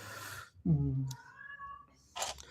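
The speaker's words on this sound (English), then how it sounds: "if you can hear crying in the background, that's the cat" A cat's plaintive meow rises briefly near the middle, with quieter background rustling and breathy noise around it.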